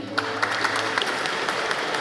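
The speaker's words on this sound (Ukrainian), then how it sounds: "Ваші оплески." An audience at an awards ceremony held by a charitable public organization claps continuously in dense, even applause for about two seconds.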